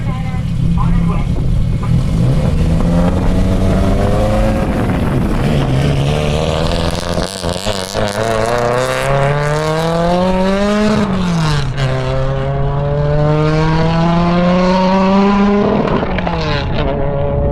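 A Porsche 944 Turbo land speed car launches from the start line, its engine loud and close, climbing through rising revs with gear changes and swelling again, throughout at full volume.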